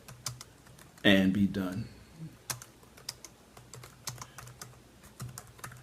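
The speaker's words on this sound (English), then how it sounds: "let me just type this" Typing on a computer keyboard: steady light, close key clicks tapping along irregularly, briefly interrupted by a short burst of a person's speech.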